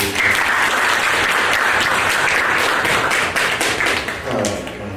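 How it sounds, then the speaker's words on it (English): A crowd at a post-prom hypnotist show gives loud, close applause, with dense clapping and a few distinct nearby hand slaps and taps standing out in the mix. "Let's show them what I mean with a nice big round of applause."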